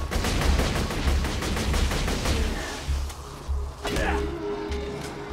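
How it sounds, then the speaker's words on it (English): Enemies fire guns in Borderlands 2, a dense, steady stream of rapid gunshots with machine-gun bursts that briefly break off near the end, heard close and loud throughout. "Why are they still shooting at me?"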